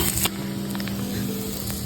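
An egg fries in a pan for a mushroom paneer egg roll. A steady, close, soft sizzling hiss runs throughout, with a brief sharp crackle near the start.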